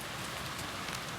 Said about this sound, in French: ce sera la pluie qui va nous chasser